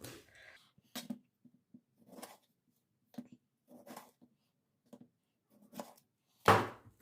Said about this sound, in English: Right, I've got 4 tomatoes here. I'm just going to cut them in half, like that.